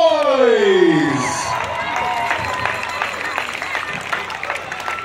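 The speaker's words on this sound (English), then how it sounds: "Big round of applause" Crowd applause and cheering at a powwow singing contest in Mandaree as contemporary singing champions are announced, a broad wash of clapping and crowd noise following a sliding tone at the start.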